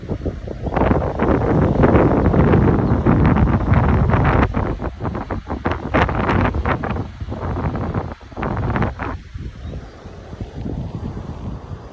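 Strong gusting wind buffets the microphone outdoors near water, a loud continuous rumble with rushes and dips throughout, no voices.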